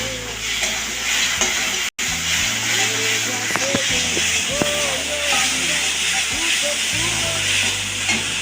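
Ginger-garlic paste fries with pointed gourd in a pan, giving a continuous hissing sizzle with scraping stir strokes and low thumps of the spatula, close up, with a few soft bubbling pops.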